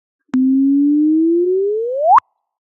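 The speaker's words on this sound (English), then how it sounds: "This is the sound of gravitational wave." Gravitational wave chirp converted to audio: a single pure tone lasting about two seconds that holds low, then sweeps steadily upward and ends abruptly in a quick rising whoop, clean and loud with nothing else present.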